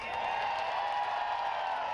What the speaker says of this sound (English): Garnered some of the loudest cheers.